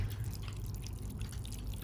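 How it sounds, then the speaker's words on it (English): Chicken stock trickles into a wonton meat filling as it is stirred in one direction, with soft drips and wet mixing sounds close up and faint throughout. "we're going to stir in one direction while slowly pouring in the liquid"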